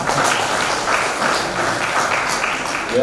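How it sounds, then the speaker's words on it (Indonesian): Audience applause at an Indonesian wedding ceremony, a steady wash of many hands clapping that fills the room evenly for the whole moment, with no break or pause. "Kita tepuk tangan dulu saudara."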